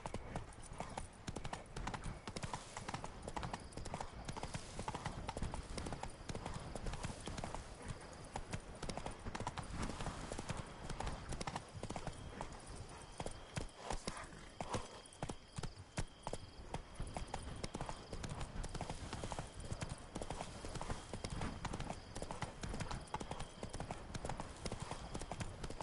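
Roach the horse gallops in The Witcher 3, steady rhythmic hoofbeats pounding loud and close for the whole stretch, with faint voices now and then under the clatter.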